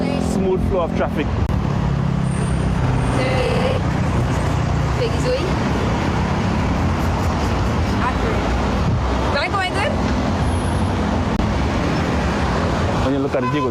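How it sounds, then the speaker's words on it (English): Road traffic at a busy five-road intersection in Grenada, a constant rumble of cars and larger vehicles passing with occasional horn-like tones, while people talk over it throughout. "Flow of traffic."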